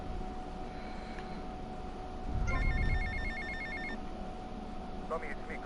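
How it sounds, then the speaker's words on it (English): A mobile phone text-message alert in GTA Vice City plays a short run of bright electronic beeps over steady game background noise. A few softer chirps follow a moment later. "Oops, I just got a text message."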